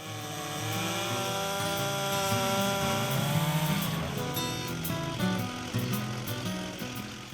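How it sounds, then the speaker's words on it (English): Power tools trim and grind the smaller limbs and branches off a felled tree trunk, a loud, steady engine drone that holds for the whole stretch with no voices. "start trimming off and grinding the smaller limbs and branches"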